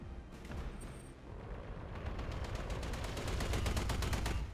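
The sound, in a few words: AC-20 autocannon shot in video game Battletech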